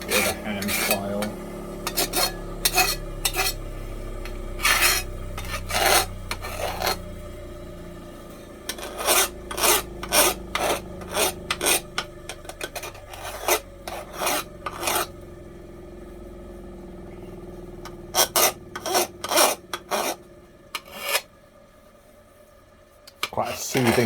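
A hand file rasps over the rough steel edges of a handmade garden trowel in bursts of short, loud, rhythmic strokes, pausing now and then before resuming.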